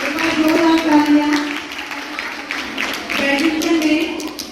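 A school sports-meet prize distribution crowd claps for a staff prize winner, a dense rolling applause that rises, dips and swells again while a voice talks over it.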